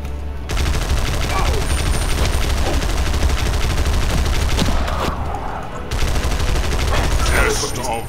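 Automatic weapons fire in a video game as a sustained, dense barrage of rapid shots, loud and continuous, with a short gap partway through before the firing resumes.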